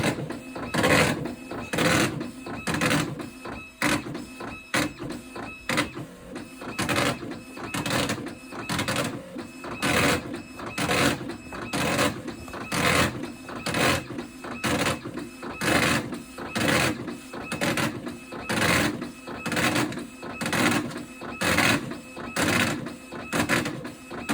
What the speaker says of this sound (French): vu que c'est une imprimante braille, c'est des marteaux qui gravent